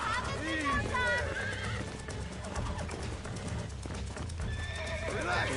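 A horse in Red Dead Redemption neighs and whinnies while hooves clip-clop steadily as it is broken in, loud and close, with someone talking over it.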